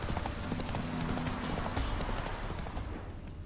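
Horse hooves clip-clop at a steady gallop in The Witcher 3, a continuous rhythmic pounding that is loud and close, with faint game ambience around it.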